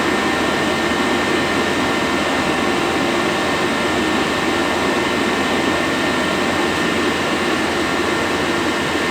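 A Chinese diesel heater running with its fuel pump ticking quickly, heard as a loud, steady, close blowing roar that stays even throughout, with no talking.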